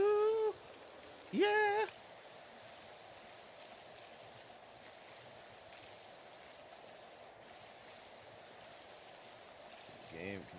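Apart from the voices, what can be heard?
pressure washer water spray in video game PowerWash Simulator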